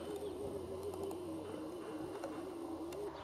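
A pigeon on a pigeon loft coos softly in a steady, rolling, low-pitched murmur that carries on throughout, with faint ambient noise around it.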